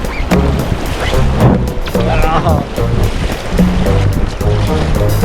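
A shovel used as a makeshift paddle dips and pulls through river water in a steady rhythm of close splashes and swishes, with talk heard between strokes.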